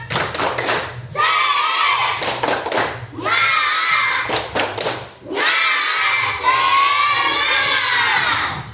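A classroom of children performs a spirit clap chant: quick bursts of sharp rhythmic clapping alternate with loud group shouting, repeating three times at close range.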